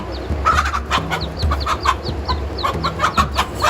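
A hen defending her chicks from cobras clucks in rapid, repeated bursts, loud and close, a busy agitated series of sharp calls running throughout with a low rumble beneath.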